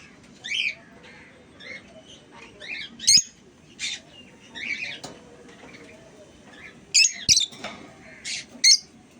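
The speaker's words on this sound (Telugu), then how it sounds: "ఫుల్ కండిషన్లో ఉన్నాయి బర్డ్స్ అన్నీ. బాగా ఫుల్ యాక్టివ్గా బర్డ్ అంతా" Pet parrots, sun conures among them, give sharp squawks and high chirping calls in scattered bursts over a soft background murmur, several birds calling close by.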